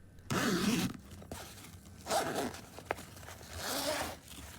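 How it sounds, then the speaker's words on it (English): A luggage inner-liner zipper is pulled open in several drawn-out zips with short pauses between, close and fairly loud, with a small click midway. "So normally there's a zipper in the inner liner."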